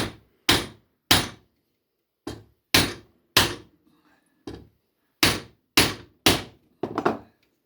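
Mallet blows drive a chisel into wood during chair making, about ten sharp, heavy knocks in uneven pairs and singles with brief pauses, close and loud with no talk.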